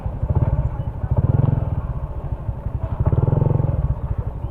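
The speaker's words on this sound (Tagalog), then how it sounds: "sa daming motor dito" Motorcycle engines in a busy parking area, a nearby bike's low rhythmic idle that swells and fades in two pulsing surges.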